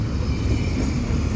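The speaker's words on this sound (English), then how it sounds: "I've got an intermodal train coming through at about 5:15 p.m." Close rumble and rolling wheel noise from a CP intermodal freight train passing through Dorval in Montreal, continuous and fairly loud throughout the short stretch.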